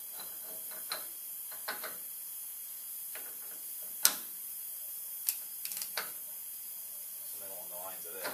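A ratchet wrench turns a six-tooth lock nut on a 14 bolt rear axle of a 1978 GMC C2500, giving scattered quiet clicks and ticks over a faint background hiss, with one sharper click near the middle.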